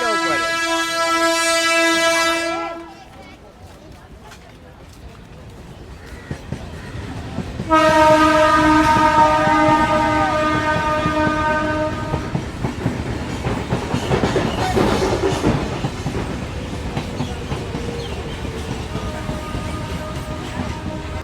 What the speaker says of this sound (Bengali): বনগার ওই দিক থেকে কিন্তু ট্রেন আসছে